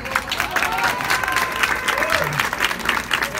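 Steady applause from an audience at an event honouring women rock and blues musicians, sustained dense clapping with some crowd voices mixed in, fairly close and even throughout.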